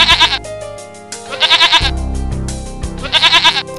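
A lamb bleats loudly and close in a cartoon setting, three quavering, nasal calls separated by short pauses, with light background music beneath.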